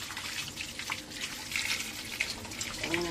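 Tap water splashes steadily as sweet potatoes are rinsed in a sink, a close, continuous rushing with small wet knocks and movement in the stream.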